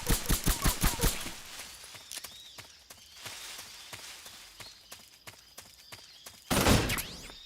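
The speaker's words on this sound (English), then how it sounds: "you can go ahead and unload a clip into the dirt wall here" A magazine emptied into a dirt wall in Metal Gear Solid 3, a quick run of about six close, sharp gunshots at the start, followed by scattered softer clicks and thuds and a louder burst near the end.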